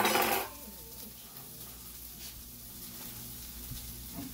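Hashbrowns sizzle and fry in a pan right after being flipped, a brief clatter at the start giving way to a steady, soft hiss of frying close by with no talking.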